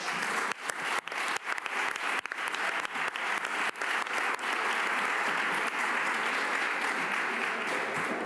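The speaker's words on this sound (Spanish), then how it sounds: "pido un aplauso para ellas, por favor" A conference audience applauding, many people clapping with sharp individual claps standing out early before the sound settles into a smooth, sustained roar of applause that continues to the end.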